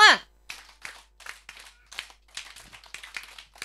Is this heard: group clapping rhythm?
yes